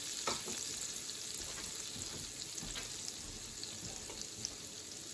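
Shrimp and garlic going into a hot pan, a steady close frying sizzle throughout with a few faint clicks and crackles.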